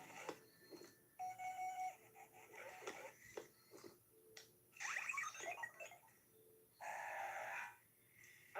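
A robot dog toy gives off a series of electronic beeps and warbling chirps in irregular bursts, close and fairly faint, with short pauses between.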